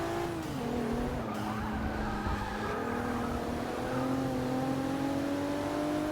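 Race cars in Forza Motorsport 6 skid and spin out, with long squealing tires over a continuous engine drone whose pitch slides down and back up. The sound is steady and loud, with no talk.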